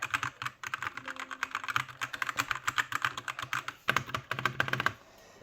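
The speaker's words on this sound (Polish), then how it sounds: "Klawiaturka się tak prezentuje podpięta. Dźwięki ma takie." Fast, continuous typing on a Redragon Akali computer keyboard gives crisp, close key clicks in a steady rhythm, with a brief pause before the typing stops near the end.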